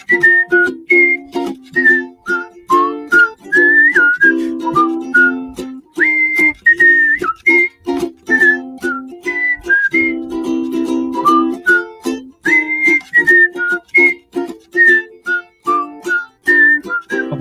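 Someone whistles a melodic tune up close, loud and clear, in short phrases with brief breaths between notes.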